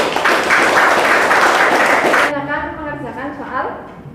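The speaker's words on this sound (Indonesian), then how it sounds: "Kita berikan tepuk tangan untuk kalian semua" Classroom applause for students after a physics lesson on elasticity and Hooke's law, a dense burst of clapping for about two seconds that cuts off abruptly, followed by a voice speaking.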